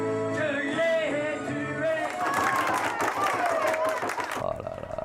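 An audience applauds and cheers for a pair of singer lookalikes, the clapping swelling over singing and voices before fading near the end.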